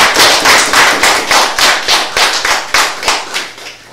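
Loud, close-up rhythmic clapping during a French-language talk show, a studio audience beating its hands in a regular pulsing pattern of bursts roughly every third of a second.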